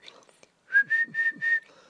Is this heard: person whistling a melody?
yes